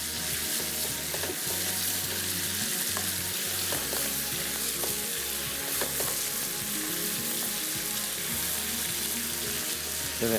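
Chicken frying in a pan for a Kunna Paya curry, a steady loud sizzle running continuously close up, with occasional clinks and stirring, no talk.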